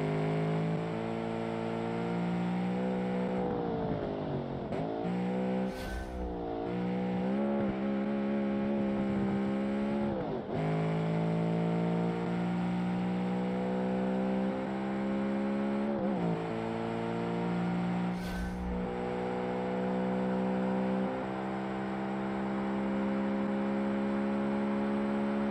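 A car engine at full throttle in BeamNG, modelled on a Ferrari 355 Berlinetta, revs hard and steadily, rising in pitch with brief dips at gear changes, loud and close with no talk.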